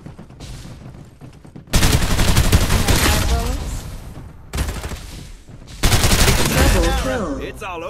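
Rapid bursts of automatic gunfire in the shooter game Farlight 84, a team deathmatch, come in two loud sustained volleys after quieter scattered shots, up close and dense.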